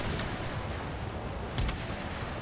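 Cannon fire from a musket-era battle video game sits inside a dense, constant roar of combat noise, with a few sharp booms rising out of the din.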